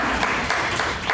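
Audience applause at a community meeting on overdose prevention sites, a dense steady patter of many hands clapping together, fairly loud and continuous through the moment.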